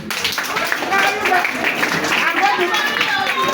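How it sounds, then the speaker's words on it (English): Children clapping during a fire-fighting training session at a school, a short burst of scattered, uneven claps mixed with chatter and voices of the group. "A round of applause for you."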